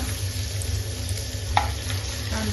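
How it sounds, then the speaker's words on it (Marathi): Finely chopped onion sizzles in a pan with garlic for kulthi pithla, a close, steady frying hiss with a brief stir clatter midway. "कांदा पैकी परतून घेऊया"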